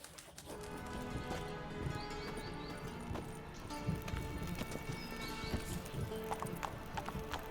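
Horse hooves in The Witcher 3, a steady clip-clop trot over ambient game music and soft background sounds, with a neigh.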